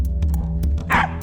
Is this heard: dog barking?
yes